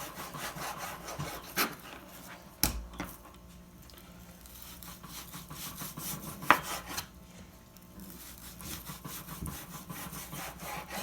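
A dull knife saws through partly frozen pork, cutting thin slices with a close, rough back-and-forth scraping and occasional sharp knocks against the cutting board.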